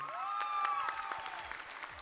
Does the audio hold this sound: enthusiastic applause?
yes